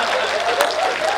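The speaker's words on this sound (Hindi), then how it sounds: "हाथ उठा के तालियां बजा रहा।" Audience applause at a Hindi comic poetry gathering (hasya kavi sammelan), a dense steady wash of clapping across the short moment with a faint voice tone threading beneath it.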